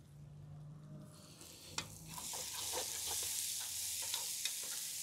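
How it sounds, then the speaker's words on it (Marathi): Finely chopped onion is added to garlic frying in a pan with Kashmiri chili for dhaba-style lasooni methi. A steady hot sizzle runs throughout, broken by scraping stirs and small clicks of the spatula. "आपण आता याच्यात कांदा घालून घेऊ। हा बारीक कापलेला कांदा।"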